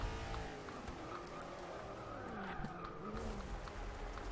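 Tires squeal and skid as a racing car brakes hard in the Forza 6 driving game at Le Mans, a wavering screech over engine drone lasting several seconds.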